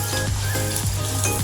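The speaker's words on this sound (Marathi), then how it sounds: "तेल तापले आहे, आता त्यात आपण आपली तयार केलेली पुरी टाकत आहोत।" Puri dough dropped into hot oil in a kadhai, a loud steady sizzle and crackle of frying throughout with faint utensil scrapes, no voices.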